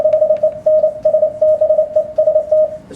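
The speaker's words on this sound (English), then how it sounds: "That's the way I like to hear Morse code right there, because it's clearer." Morse code sent at 28 words a minute, a steady single-pitched tone keyed in rapid bursts of short dots and longer dashes over a faint hiss, with no voices.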